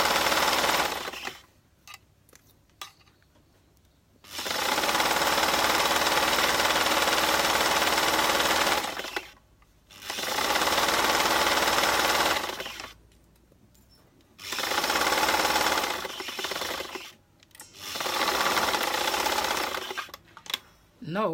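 A sewing machine stitches a maxi skirt in bursts: four or five long runs of steady, rapid mechanical whirring, close and loud, separated by short pauses of quiet.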